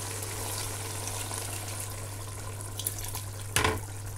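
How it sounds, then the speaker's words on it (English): Water runs steadily from a tap into a pot of egusi soup, a constant close hiss, with a short louder splash and clatter near the end. "I'm still adding water to it because it's not ready"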